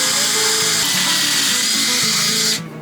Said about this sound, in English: I don't like the fact that I have to drill this kind of crooked